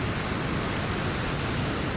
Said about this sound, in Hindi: इधर से ये झरना आ रहा बहुत प्यारा सा, और फिर माँ भागीरथी में मिल जा रहा है।